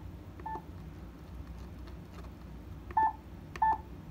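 Short electronic key beeps from a Yaesu FT-891 amateur radio transceiver set to key-beep volume 40, three brief tones spaced apart, soft but distinct over a low hum.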